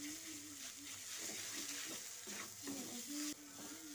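Ground chana dal paste fries in oil and ghee over a low-to-medium gas flame, giving a constant soft hiss with repeated scraping stir strokes, close but fairly quiet, and faint voice-like murmurs in the background.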